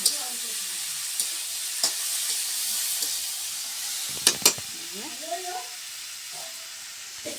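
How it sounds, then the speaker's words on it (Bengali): Gravy poured over frying vegetables, including sweet potato, in a village kitchen, hissing and sizzling in a quiet pan with a few sharp clinks and stirring knocks, brief voices murmuring faintly in the background. "ভাজনা হয়ে গেছে এখন রসা দিয়ে দিই"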